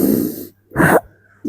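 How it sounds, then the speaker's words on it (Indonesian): A patient receiving massage therapy for stomach pain and frequent coughing breathes close to the listener, with a long breath, a brief pause, another short breath and the start of a third. "Napas, terus napas."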